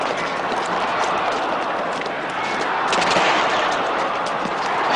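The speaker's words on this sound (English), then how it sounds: "Shots." Gunfire in a dense, continuous burst of cracks over a loud roar of background noise, holding steady for the whole stretch with sharper reports near the middle.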